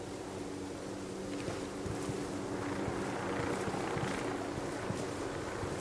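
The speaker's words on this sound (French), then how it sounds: "Un hélico qui arrive." A helicopter approaches in the video game Ghost Recon Wildlands. Its low, pulsing rotor thrum is faint and distant, mixed with a windy rush, and builds slightly across the stretch with no voices over it.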